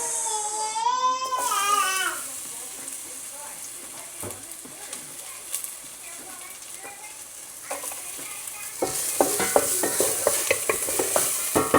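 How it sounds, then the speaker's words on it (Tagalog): Onion sautéing in a little olive oil sends up a steady sizzle under a spoon clattering and scraping against the pan, with a baby crying at the start and the stirring growing busier near the end. "Gisa muna natin sa olive oil."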